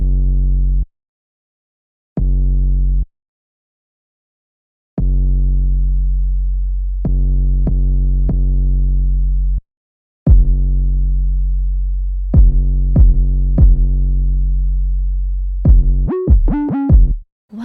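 Long, sustained UK drill bass notes held in connected stretches, deep sine-like tones broken by short gaps, with a few quick stabbed notes and gliding pitch slides near the end, all alone with no voices.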